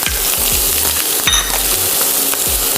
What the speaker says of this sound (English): So you want to cook this until the onions become translucent.